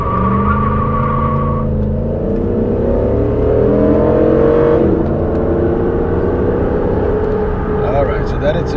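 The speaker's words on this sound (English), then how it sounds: "Another 0 to 60 with traction control off." A Ram pickup truck accelerates from a standstill toward 60 with traction control off, its engine drone rising steadily in pitch, easing briefly near the five-second mark, then pulling on loudly and close with a voice speaking over it.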